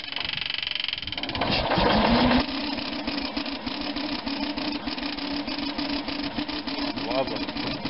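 An Onan engine runs after a carburetor rebuild with a steady, close mechanical chug. It surges louder for about a second early on, then settles into an even running rhythm.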